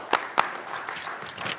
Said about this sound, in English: I would like to give you a round of applause for a job well done.